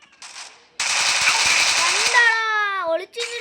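Loud, fast automatic gunfire from a shooting video game erupts after a brief lead-in and rattles continuously, then gives way to a rising electronic tone and a short final burst, with a voice briefly heard.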